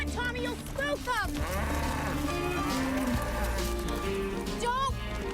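Cattle lowing in a drama scene near a swamp, several drawn-out moos rising and falling in the foreground with music and other voices mixed in across the scene.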